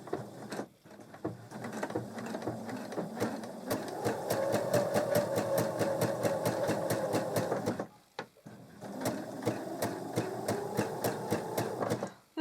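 A sewing machine stitches across a knitted steek with a fast, even, rhythmic patter. It runs in two close, steady bursts separated by a brief pause.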